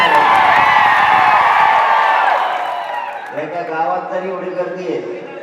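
A large crowd at a Maratha reservation rally in Hingoli roars and cheers loudly, a dense wash of shouting that fades into scattered whoops and a raised voice over the crowd.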